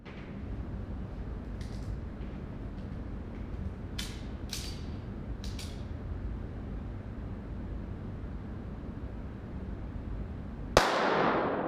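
A Beretta M1934 pistol fires a hollow point .380 round into ballistic gel. A single sharp, loud report comes near the end, after a stretch of steady background noise and a few faint metallic clicks.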